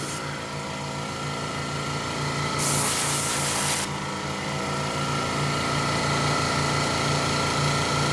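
Steady airbrush hiss while spraying paint onto the three radiator fans of a model SD60M locomotive, a continuous even hiss that swells louder and brighter for about a second midway.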